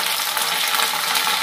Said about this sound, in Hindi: देखो प्याज अपनी भून गई